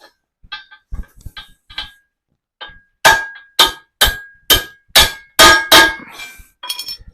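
Metal pins pressed into a part are driven out with hammer blows: a few lighter taps, then a run of six or seven loud, ringing metallic strikes at a steady pace, close by.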